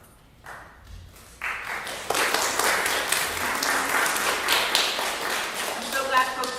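A church congregation breaks into applause that builds from a few scattered claps into a full, steady round filling the room, with someone talking over it.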